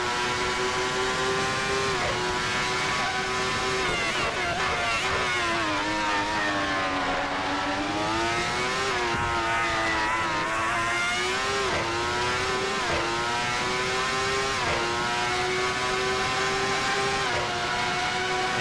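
ASR 412 T2 race car with a V12 engine lapping a track, its loud, continuous engine note rising and falling steadily through gear changes and corners for the whole stretch, with no talking.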